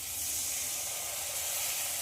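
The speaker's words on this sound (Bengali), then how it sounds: "তা আমি অল্প করে জল দিয়ে দিলাম।" Continuous hissing sizzle as a little water is poured into spice masala frying in a pan, steady and fairly loud, with no other sounds.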